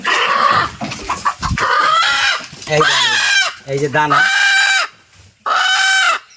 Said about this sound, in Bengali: দানা চাউল আর দানা মিক্স করে মুরগি খাইতে দেই